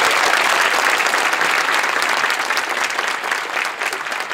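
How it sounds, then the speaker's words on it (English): A middle school audience at a matinee performance of the musical Legally Blonde claps loudly and continuously, thick dense applause that tapers slightly toward the end. "Give them one more round of applause."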